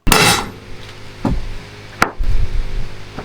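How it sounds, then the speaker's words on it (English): A hammer strikes a U-joint retainer on a one-ton truck driveshaft to tap it back into its slot, a few sharp metallic whacks spaced irregularly, loud and close. "I've got to hit it back to get the retainer back in its little slot"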